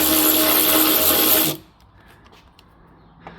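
A ratchet runs on a front lower chassis brace fitting for a Mazda MX-5 Miata ND, giving a loud, dense, high mechanical whir up close for about a second and a half before cutting off abruptly, then faint handling clicks follow.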